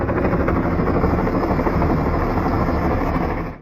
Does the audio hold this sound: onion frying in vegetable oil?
no